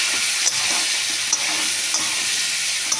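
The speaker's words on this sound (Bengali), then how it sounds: "তারপরে আমি এখানটায় দিয়ে দেবো হচ্ছে তোমার মতো একটু হলুদ। দিয়ে এটাকে আবার নাড়াবো।" Turmeric and salt frying in a pan as they are stirred, a steady bright sizzle with a few soft scraping knocks of the spoon at regular intervals, close and alone without talk.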